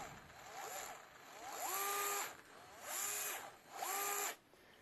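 An 8-volt lithium-ion rechargeable kinetic screwdriver whirs in three near, loud bursts, its motor pitch rising as the trigger is squeezed and falling away between runs, with no talking.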